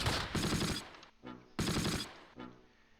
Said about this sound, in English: Yep, 30 cal machine gun